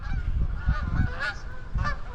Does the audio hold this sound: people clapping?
no